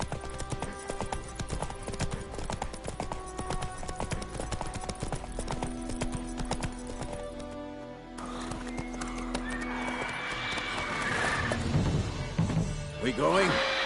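Roach, the horse in The Witcher 3, galloping with steady rhythmic hoofbeats and a whinny, over game music and ambient sound, with voices talking in places.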